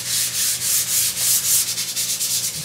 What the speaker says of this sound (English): I'm just gonna let the sandpaper transition over the edge